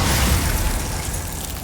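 A Bombarda spell blast in Hogwarts Legacy, a loud, broad explosive boom that rumbles and slowly fades over under two seconds, with no voices.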